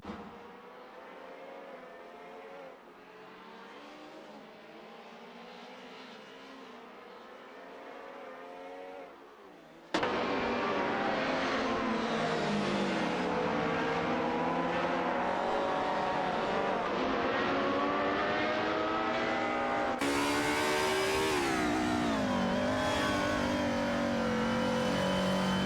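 Race cars in an AI racing simulation scream along the track with steady high-revving engine whine, shifting pitch as cars close in and overtake, loud and continuous with no talk.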